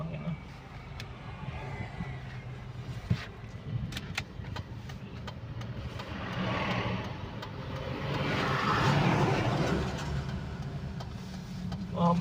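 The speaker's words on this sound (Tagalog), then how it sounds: "Nangangatal yung makina" Toyota Revo engine idling roughly and shaking, its RPM dropping low, a steady close mechanical rumble that swells and eases slightly with a few faint clicks.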